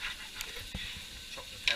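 An onion browning in a pan gives off a faint, steady sizzle with a few soft stirring knocks, close by and with no voices.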